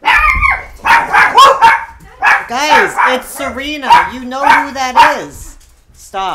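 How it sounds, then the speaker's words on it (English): A dog barks and yelps in several close, loud bursts, tangled together with a person talking over it indoors. "I'm sorry about the dog yelling."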